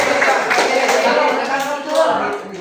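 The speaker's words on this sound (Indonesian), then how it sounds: "Tepuk tangan." A class of junior high school students claps together in a classroom, a dense continuous patter of hands with some voices mixed in, fairly loud and fading slightly toward the end.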